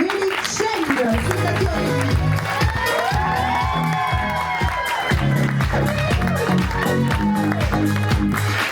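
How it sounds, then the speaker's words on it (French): Cheering and shouting from a crowd fill a large theatre, the Grand Rex in Paris, loud and continuous throughout with music-like tones and voices mixed in, as a performer is welcomed on stage. "je vous demande un tonnerre d'applaudissements"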